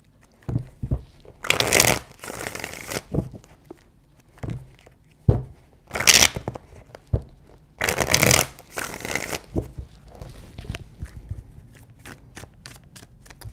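Tarot cards are shuffled in several distinct bursts, close and crisp, with soft taps and handling sounds between the riffles and no talking.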